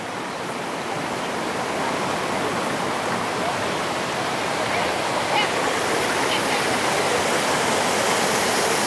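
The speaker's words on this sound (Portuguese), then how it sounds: "É a travessia da cascata" Continuous loud rush of a waterfall being crossed on an ecological walk at a rural property in Jandaia do Sul, Paraná, Brazil, a dense, close roar of falling water that steadily fills the whole stretch.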